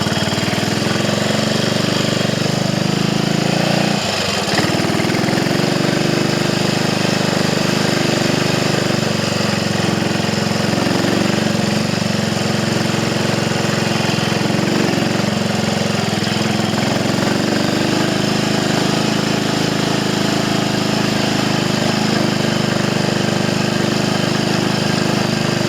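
Triumph Tiger Cub motorcycle engine under way on country lanes in second gear with trail gearing, a continuous loud busy drone with wind rush that holds steady throughout.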